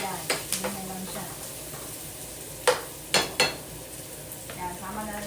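Chopped onions stirred in a sizzling frying pan while cooking bitter melon (ampalaya) dish, steady close sizzle with a few sharp utensil scrapes and clinks against the pan.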